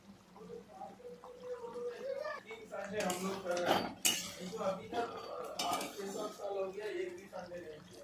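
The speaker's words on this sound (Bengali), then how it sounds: "এবার ভালো করে খুন্তি দিয়ে মাংস আর জলটাকে ভালো করে মিশিয়ে নেব।" Metal spatula scraping and clinking against a pot as mutton curry is stirred with hot water, with repeated knocks and rattles close by and muffled voices in the background.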